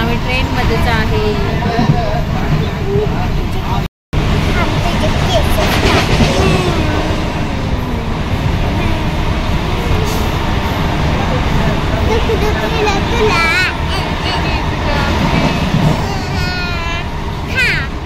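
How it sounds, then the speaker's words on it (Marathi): A passenger train rolls along from inside a carriage, with a continuous rumble and rattling wheel noise and a murmur of people talking over it. "अजून आम्ही ट्रेन मध्येच आहे"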